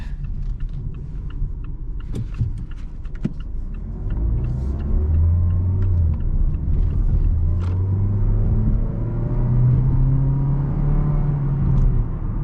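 A 2019 Mazda CX-3 GS with a 2-liter four-cylinder engine pulls out of a right turn and accelerates, its engine droning steadily and rising in pitch through the gears over a low road rumble, with no talking.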